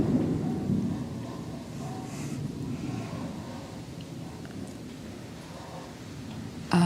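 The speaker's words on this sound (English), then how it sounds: "oh, there is just lightning all around us." Thunder from a lightning storm rolls as a long, low rumble, accompanied by steady rain and a faint wind hiss, with no voices.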